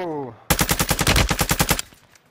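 Automatic gunfire in a first-person shooter game: a loud, close burst of about a dozen rapid shots in even rhythm, preceded by a brief voice and followed by a short fading tail.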